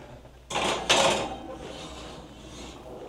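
A cake pan of spread pound cake batter goes into the oven: a sharp metallic clunk, a second louder scrape and thud of the rack sliding, then a fading rumble under quiet room tone.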